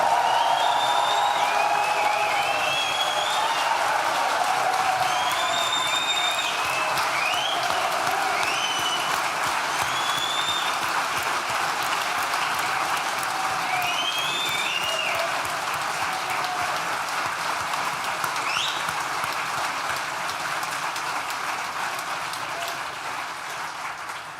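Sustained audience applause at a Nottingham Business School graduation ceremony, a dense steady wash of clapping from a large crowd with scattered whoops and cheers, slowly tapering toward the end.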